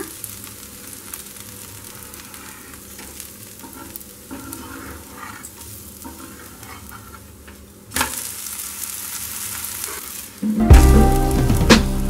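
A dosa of chana dal batter cooks thinly on a pan over a low flame, giving a soft, steady sizzle with faint scraping. Near the end a sharp, loud hiss bursts out up close.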